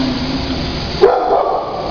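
An 8-month-old shepherd and hound mix puppy gives a single sharp bark midway through, close and fairly loud against steady background noise.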